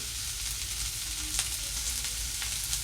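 Chopped onion sizzles steadily in a pan over a low gas flame, a soft, continuous close-up crackle with faint stirring clicks and no voices.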